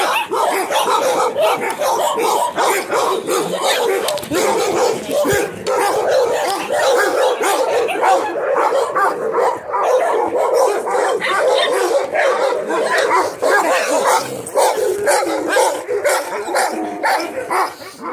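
Several dogs bark continuously and loudly nearby during a walk, overlapping yips and excited barking with occasional whimpers, while people talk underneath.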